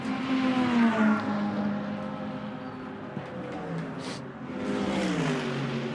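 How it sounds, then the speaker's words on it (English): A Team WRT Bentley GT race car passes the timing line during free practice at Imola, its engine note droning and shifting pitch as it goes by, moderately loud and fading slightly before swelling again. "So there, over the timing line, goes the Bentley."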